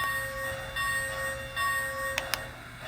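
A Lionel American Flyer FlyerChief 2-8-4 NKP Berkshire model train bell rings faintly with steady tones, ending in two sharp bright strikes near the end.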